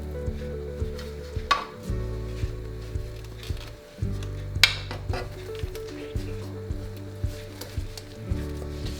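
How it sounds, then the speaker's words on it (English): Fried aubergine is tipped into a vegan curry in a pan, giving soft sizzling and bubbling with a few sharp clatters of utensil on pan over a steady low kitchen hum. "now you can throw in all the fried aubergine into this"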